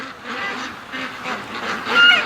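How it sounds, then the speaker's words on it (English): Ducks quack in a dense, overlapping chorus by a lake where geese are also flying in, the calls close and fairly loud, rising at the end. "as fast as the geese were flying in, the ducks started coming back"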